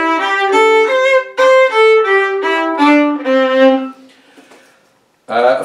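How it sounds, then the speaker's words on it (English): A fiddle plays a pentatonic scale in C, sounding a run of bowed notes that move step by step and soften as it goes. It ends in a quiet gap, then a sudden bright burst of sound at the close. "if I tell you to do the pentatonic scale in C,"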